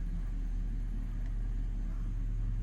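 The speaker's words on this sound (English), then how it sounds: "It's moving under its own power." A 1995 Lexus SC 400 moving under its own power, its engine giving a steady low rumble close by with no talk over it.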